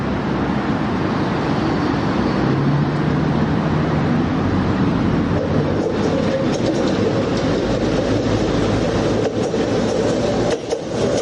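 A train rolls over broken track in a loud, continuous rumble, with rattling wheel noise and a steady low drone throughout and no voices.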